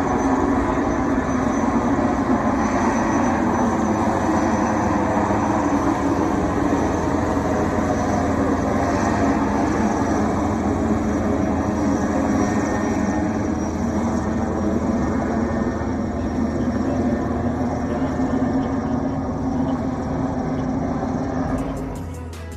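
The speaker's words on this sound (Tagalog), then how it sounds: "Isang Chinese Navy helicopter ang lumipad sa itaas ng mga barko ng Bureau of Fisheries and Aquatic Resources" A Chinese Navy helicopter flies over ships at sea, a loud, steady rotor and engine roar that fills the whole stretch at constant strength, easing slightly at the very end.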